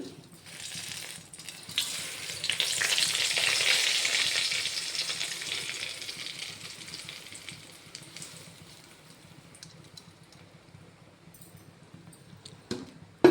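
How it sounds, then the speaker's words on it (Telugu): Half a kilo of flattened rice (poha) fries in a pan of oil, a loud, bubbling sizzle that swells over the first few seconds and then gradually subsides to a quieter crackle, ending with a sharp clink. "హాఫ్ కేజీ ఉన్నాయి అటుకులు ఇప్పుడు ఇవి ఆయిల్లో వేసేస్తాను"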